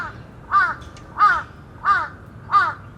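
Crows caw in a sewer scene from a Leos Carax film, four evenly spaced calls at moderate distance over a low, steady background.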